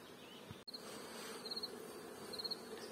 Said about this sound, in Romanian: Albina zboară perfect, se duce în cules.